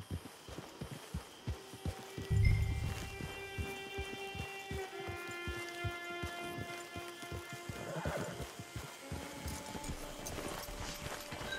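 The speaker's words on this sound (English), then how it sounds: "It's your horse." A horse at a camp whinnies loudly while its hooves clip-clop in a steady, evenly spaced rhythm close by, with no talking.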